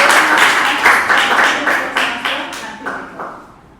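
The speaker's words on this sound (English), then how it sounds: "Give big round of applause." Audience applause at a Toastmasters club meeting, a round of clapping that starts fairly loud and fades steadily over a few seconds, with no talking.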